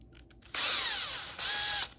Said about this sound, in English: So I'm drilling out the holes now with a step drill.